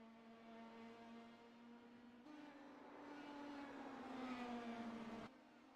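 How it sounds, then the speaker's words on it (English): Race car engines in a racing broadcast drone steadily at a distance, a sustained engine tone that builds and rises in pitch before cutting off near the end, fairly faint throughout. "I know the cars aren't very loud."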